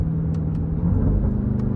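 A supercharged Jeep Trackhawk engine drones and rumbles with a continuous whine while cruising late at night, heard loud and close from inside the vehicle with no voices.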